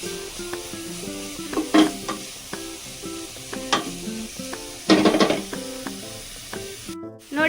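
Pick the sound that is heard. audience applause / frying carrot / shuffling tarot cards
frying carrot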